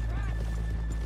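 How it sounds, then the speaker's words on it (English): Horses in Red Dead Redemption 2 whinny and clop their hooves over a steady low rumble of game ambience, with a neigh rising near the start and scattered hoof steps throughout. "let's leave the horses here off the main drag."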